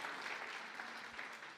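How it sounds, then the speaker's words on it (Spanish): A church congregation applauds together in a steady, even wash of clapping that fills the room at moderate volume without a break. "¿Por qué no damos un aplauso a Dios por darnos la bendición de estar en su casa"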